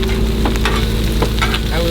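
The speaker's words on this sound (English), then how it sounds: "I like the sizzle." Breakfast fries in a pan with a loud, close, continuous sizzle and crackle, with a few brief stirring scrapes and no talk.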